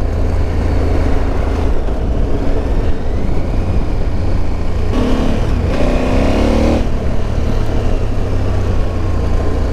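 Engine of a KTM 1290 Super Adventure motorcycle drones steadily while riding, with a brief rise in pitch midway as it revs harder under loud wind rush.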